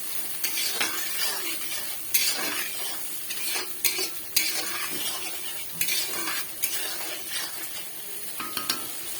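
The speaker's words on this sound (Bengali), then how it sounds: "বেগুনটা দিয়ে ভালো মতো কষিয়ে নিতে হবে।" Eggplant stir-fried in a pan for hilsa fish curry, with repeated sharp utensil clatters and scrapes against the pan over a steady sizzle, close and busy, no voices.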